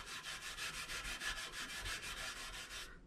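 Steady, rhythmic back-and-forth sanding strokes removing rust from a classic VW chrome bumper, close and continuous, a gritty wet scrubbing that stops abruptly near the end.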